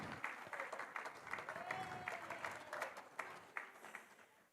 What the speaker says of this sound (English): But a round of applause for Miss Strawn.